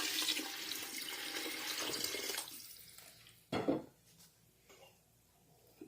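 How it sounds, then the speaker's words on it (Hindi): Water from a tap or jug pours into a cooking pot for masala khichri, about five cups, a steady broadband rush for over two seconds that tapers off, followed by a few short splashes and clinks. "पानी जो है ये हमने लिया है तकरीबन 5 कप।"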